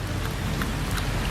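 Rain falls steadily outdoors on a cold 44-degree day, a dense even patter of drops hitting surfaces with a faint low rumble beneath, continuous and close, with no talking.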